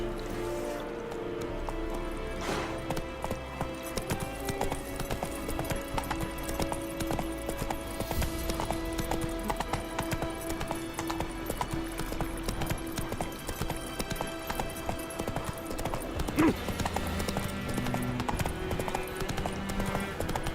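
Roach, the horse in The Witcher 3: Wild Hunt, gallops with a rapid, continuous clip-clop of hooves, close and steady, layered over game ambience and music.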